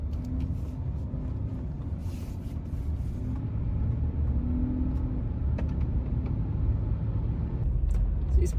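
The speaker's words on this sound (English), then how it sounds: "Take the car for a test drive and warm up the transmission." Mercedes-Benz W140 with a 5G-Tronic automatic gearbox on a test drive, a steady low engine and road rumble from inside the cabin with faint shifts of tone, continuous and moderately loud throughout.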